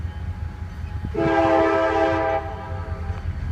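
A loud CSX freight train horn blares with steady harmonic tones for about a second, over a low rumbling rail noise that continues before and after as it passes an old station platform.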